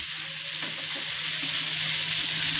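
Stuffed pomfret frying in a pan, a steady close sizzle with soft crackles running through without any talk.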